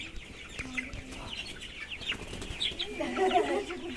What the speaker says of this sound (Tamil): இப்போ நம்ம கோழி பண்ணையில் இருக்கோம்